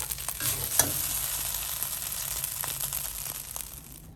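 Noodles sizzle steadily in a hot wok while a utensil scrapes and stirs in irregular strokes, close and moderately quiet.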